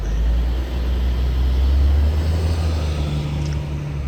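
Heavy trucks idle and creep at low speed while manoeuvring between poles to exit a cramped parking lot, a steady deep engine rumble with constant low drone and no talk.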